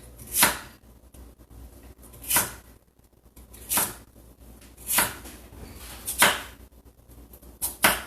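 Knife cutting yams into even slices on a board: six sharp, separate chopping strokes at a slow, fairly even pace, close and moderately loud over quiet room noise.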